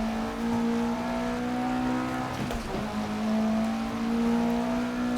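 Opel Kadett rally car in the Dirt 2.0 racing game, engine holding a steady drone with sustained harmonic tones while pulling uphill, briefly dipping mid-way before settling back into a constant loud hum.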